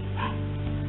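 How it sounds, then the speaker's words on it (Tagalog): A Japanese Spitz barks once, briefly and faintly, in the background of a phone line with a steady electrical hum. "Bakit tahol yung aso?"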